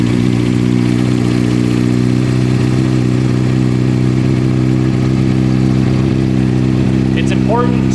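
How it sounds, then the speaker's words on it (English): A motorcycle fitted with a Yoshimura full exhaust runs on a dyno, its engine holding a loud, steady, low harmonic drone at idle for the whole stretch. "turn the bike on"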